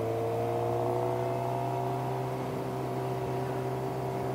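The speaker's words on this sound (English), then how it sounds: "The bike is getting loud." A Suzuki GSX-R motorcycle engine hums steadily and close on the road in a smooth, continuous tone that holds throughout the ride, with no talking.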